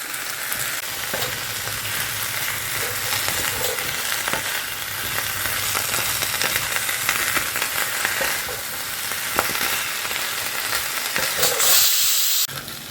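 Fish head and vegetables sauté in hot oil in a home kitchen, a steady, close sizzle and crackle that runs the whole time with occasional stirring scrapes, no voices over it.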